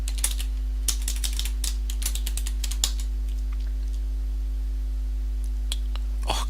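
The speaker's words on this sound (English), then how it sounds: "Now I need to type in the password." Close clicking keystrokes on a computer keyboard as a password is typed, in irregular quick bursts with short pauses, over a steady low electrical hum.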